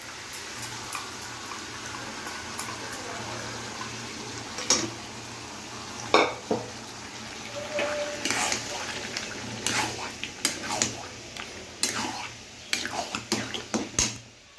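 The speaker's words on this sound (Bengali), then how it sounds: "এখন সিদ্ধ করা ডালটা দিয়ে দেবো।" Boiled lentils going into a pan and being stirred, giving intermittent clinks and scrapes of a spoon against cookware over a low steady hum, with a soft wet sizzle beneath and occasional louder knocks.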